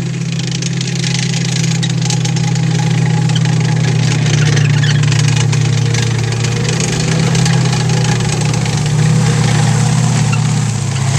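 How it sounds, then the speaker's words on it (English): A Grant tank with a wider turret, powered by a radial aircraft engine, runs steadily at idle. It gives off a loud, continuous low drone with a rough mechanical texture and no voices over it. "This is running on a radial aircraft engine."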